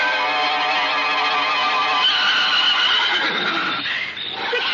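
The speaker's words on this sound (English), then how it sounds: "6 white horses with golden harness and red and blue ribbons in their manes." Several horses neigh and whinny loudly as a radio-play sound effect, six white horses harnessed before a carriage, with long overlapping whinnies filling the clip and a faint clip-clop underneath.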